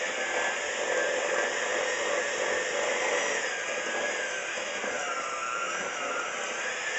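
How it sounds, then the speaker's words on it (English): An electric mixer whirs steadily while beating pumpkin cookie dough, a continuous close, loud drone that holds without a break. "Let's go ahead and mix this a little bit more since we pulled the stuff off the sides."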